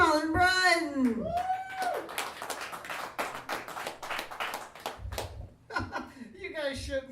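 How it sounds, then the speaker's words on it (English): A comedy club audience claps and laughs for a comedian taking the stage, the applause a dense patter of hands mixed with chuckles, while the comedian speaks and sings over it. "You guys shouldn't be clapping for me"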